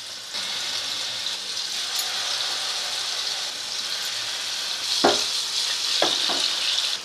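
Mutton seekh kababs fry in about a cup of hot oil over medium flame, giving a dense, even, rain-like sizzle throughout, broken near the end by a few sharp clicks and taps.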